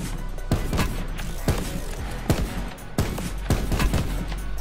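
Sharp gunshots in the video game Call of Duty: Black Ops 4 ring out in irregular bursts, several loud cracks spaced across a few seconds with faint background noise between.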